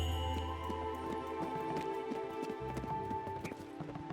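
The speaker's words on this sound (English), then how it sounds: "Sheep's just escaping." Hooves patter quickly away as a sheep runs off in the video game Spiritfarer, a fast clip-clop rhythm over soft game music.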